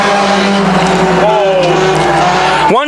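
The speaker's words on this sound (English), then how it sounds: "They're going to shuffle the 26M of Phil Desormeau back to the number 5 spot as they come racing down the front stretch." Stock cars at Thunder Stock Speedway roar down the front stretch in a loud, steady race-engine drone, rising in pitch as the pack passes, with a swooping pass near the end and an announcer talking over it.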